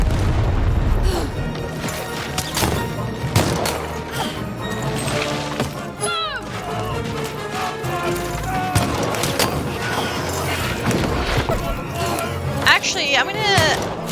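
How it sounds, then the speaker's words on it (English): A bomb goes off in the video game Lost In Random, a heavy boom amid a dense, busy mix of game effects, crashes and music, with a player talking over the chaos. "Oh, bomb."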